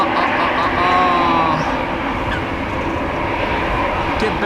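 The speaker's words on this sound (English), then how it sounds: "ITA Airways flight 121 going to Milano, A320 EI DTN." An ITA Airways Airbus A320 roars at Amsterdam Schiphol Airport on a windy day, a loud, steady jet engine rumble with wind noise filling the whole stretch.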